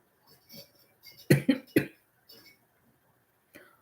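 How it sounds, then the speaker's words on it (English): A person coughs three times in quick succession, close and fairly loud, followed by a softer cough a moment later in an otherwise quiet room. "I'm sorry. I had to cough."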